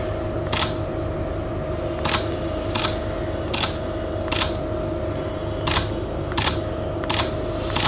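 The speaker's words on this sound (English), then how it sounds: "I'll take at least couple of hundred pictures continuously, pressing the cable shutter" A camera shutter fires over and over through a cable release during water splash photography. The crisp mechanical clicks repeat at uneven intervals of roughly one second above a steady background hum, with no talk.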